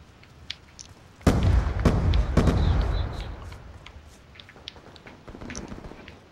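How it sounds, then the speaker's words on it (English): A frag grenade explodes in Call of Duty: Black Ops II online play, a sudden loud boom with a rolling rumble that fades over several seconds, with smaller pops and game noise around it. "Frag out!"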